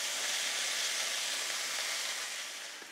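Tuna and meat fry in a hot pan, giving a loud, steady, close sizzling hiss that fades slightly toward the end, with no voices over it.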